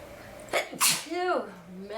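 A person with a cold sneezes twice in quick succession, close and loud, each with a sharp burst, followed by a short voiced groan.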